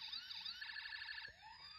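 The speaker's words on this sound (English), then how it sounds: "The start of the siren." A Walmart toy ambulance plays its electronic siren: a rising-and-falling wail that switches to a faster warble, then cuts out and fades, with no talk.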